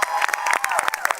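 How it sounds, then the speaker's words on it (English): After a school drama production, the audience claps and cheers loudly and close by, with sharp individual claps and excited voices and whoops rising over a busy crowd. "Can we get a round of applause?"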